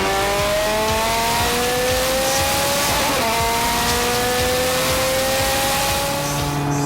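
A loud supercharged Ferrari F430 Scuderia Spider 16M V8 with Novitec Rosso tuning revs and roars continuously, its pitch climbing through gear changes as the car accelerates close by.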